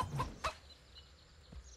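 A chicken in the SkySaga video game gives a couple of short, faint clucks close together near the start, then one softer cluck a moment later, against quiet background.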